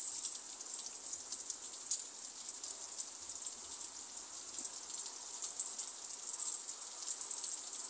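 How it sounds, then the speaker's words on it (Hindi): Steady rain hisses continuously at a moderate distance, a dense even patter with no voices over it. "बारिश होगा काफ़ी देर तक, आप सब लोग देख ही सकते हो।"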